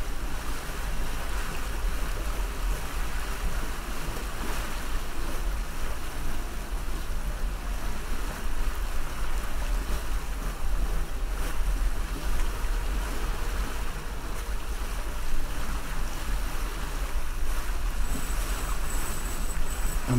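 A sailboat slides through open water in the Sailaway sailing simulator, with steady wash of waves against the hull and gusting wind noise, continuous and fairly close, no talking.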